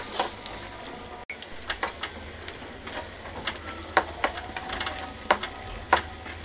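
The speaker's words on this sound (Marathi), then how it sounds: "आता याला मी एकत्र हलवून घेते" Bhaji for puri being stirred in a pan, a soft steady sizzle under irregular scraping and clinking strokes of a spoon against the metal, close and moderately quiet.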